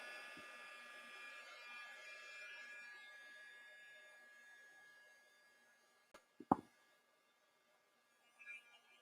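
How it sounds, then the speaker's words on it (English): Heat gun blowing steadily at a faint level for several seconds before switching off, followed by a few clicks and handling knocks. "Heat gun. Hey, you gotta be careful because this heat gun gets hot."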